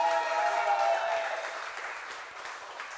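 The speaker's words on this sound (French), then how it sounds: "On l'applaudit bien fort." Studio audience on the Deal or No Deal game show applauding a new contestant, with clapping under bright musical tones that fade out over a few seconds.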